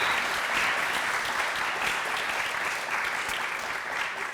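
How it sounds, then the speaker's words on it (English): A graduation crowd gives a big round of applause for the ACES coaches, a loud, dense, unbroken wash of clapping that holds steady from start to finish. "Let's give them another big round of applause,"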